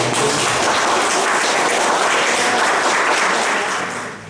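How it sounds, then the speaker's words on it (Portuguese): Loud, dense applause from a crowd, sustained for several seconds before tapering off at the end. "Salve de palmas."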